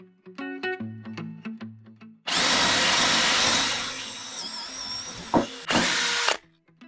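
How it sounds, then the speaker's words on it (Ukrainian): A few sharp clicks and taps, then a DeWALT DCD703 cordless drill whirs loudly and steadily for several seconds, briefly stops, and starts again before cutting off. "Тепер можна щось посвердлити."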